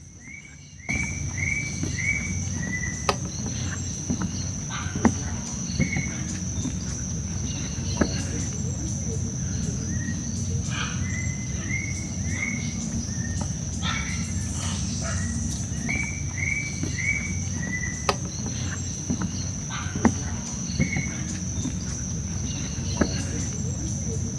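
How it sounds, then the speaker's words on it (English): Repeated short bird calls and chirps ring out over a constant high insect whine and a low background hum, outdoors and moderately near, at a bird sanctuary at dawn in the Amazon. "listen to all the bird sounds around here."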